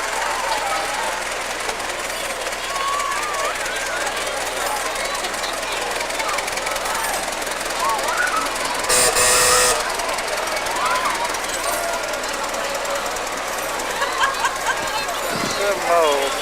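A 1921 Ford Model T idles with a rapid, rattling chug that keeps a steady rhythm throughout, heard outdoors at a car show alongside people talking nearby.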